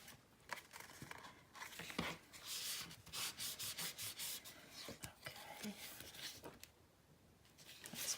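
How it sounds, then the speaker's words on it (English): Paper pieces of a scrapbook album being burnished down by hand, a series of close, dry rubbing and scraping strokes in uneven bursts, moderately quiet with no talk. "make sure that they line up pretty well before you burnish everything down"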